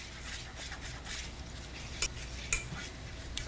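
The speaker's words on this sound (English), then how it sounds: "with my Rada handy stir, we're gonna mix that together" A Rada utensil stirs flour roux in a pan, giving a steady scraping and swishing with a few sharp clinks against the pan, quiet and close with no talk.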